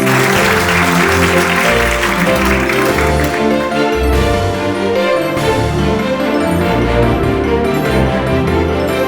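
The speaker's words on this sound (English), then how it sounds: "Let's give her a round of applause" Applause for the winner of a kindergarten public speaking and storytelling competition rings out loudly, layered over prominent, continuous music throughout.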